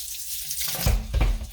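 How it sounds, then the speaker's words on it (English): Ice water poured from a pitcher onto homemade butter in a bowl, a close splashing gurgle that starts partway through and comes in two heavier surges over a constant background hiss. "I've got this pitcher filled with ice water, and I just want to pour some of the water out onto my butter"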